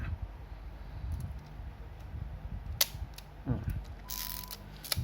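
A Ricoh 500GX film camera shutter releases with a sharp mechanical click, followed shortly by a softer clack of the mechanism, over quiet room noise.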